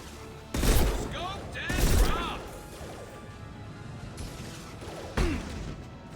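Gunfire in the video game Mass Effect 2 comes as three loud, sharp bursts, two close together early on and one later, over a steady background of game noise.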